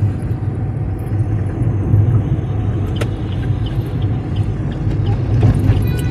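A car drives along with a steady low engine rumble and road noise from inside the cabin, constant and fairly loud, with faint rattles and no clear talk.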